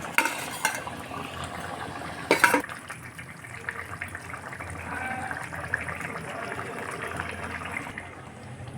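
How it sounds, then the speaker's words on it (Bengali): Fried eggs go into a simmering potato egg curry and are stirred in, giving a few sharp clinks of a utensil against the pot at the start, then a steady low bubbling and scraping that carries on alone. "এবার ভেজে রাখা ডিমগুলোকে ঝোলে দিয়ে দিচ্ছি।"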